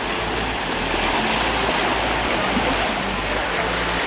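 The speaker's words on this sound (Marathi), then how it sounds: "कुठे दोन वॉटरफॉल हे बघा आणि तिकडे एक छोटा वॉटरफॉल आहे" Pal Waterfall at Karjat pours with a dense, steady broadband roar of falling water, loud and continuous, with no voices over it.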